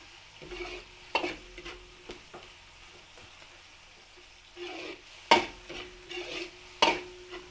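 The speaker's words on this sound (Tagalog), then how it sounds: "Gisa po natin yung ating giniling na baka." Ground beef is stirred in a pan. Soft sizzling sits under intermittent sharp scrapes and knocks of a utensil against the pan, with quiet gaps between the louder strokes and no voices.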